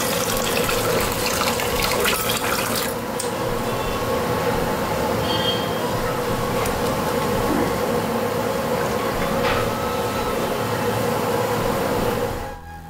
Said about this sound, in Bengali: চলো ডাল বসিয়ে দিই, একটু ধুয়ে নিই।